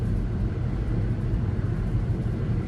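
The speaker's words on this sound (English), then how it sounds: "police helicopter activity overhead" A police helicopter's steady low rumble drones overhead, constant and broad, with no voices.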